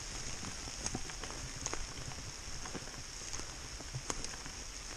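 Steady rain patters down in a continuous hiss, with occasional louder drops standing out against the wash of sound.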